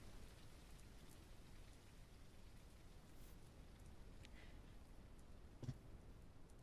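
Steady rain in the video game The Isle hisses evenly and continuously across the whole stretch, with a brief soft knock near the end.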